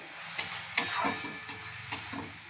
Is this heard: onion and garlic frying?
yes